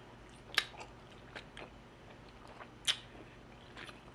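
Raw honeycomb with tough wax is chewed close up, with soft, irregular wet mouth sounds and two sharper crunchy bites standing out over a faint background hum.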